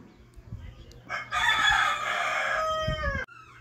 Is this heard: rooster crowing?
yes